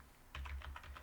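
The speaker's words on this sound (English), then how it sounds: "and then I have to type" Quick run of keystrokes on a computer keyboard while entering a compile command, about seven crisp taps in an uneven rhythm after a brief quiet start, close and fairly soft.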